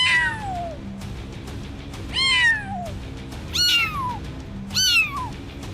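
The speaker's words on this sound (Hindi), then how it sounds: "बिल्लियों की म्याऊं" Cats meowing: four drawn-out, descending meows spaced a second or so apart, loud and close over a low steady background hum.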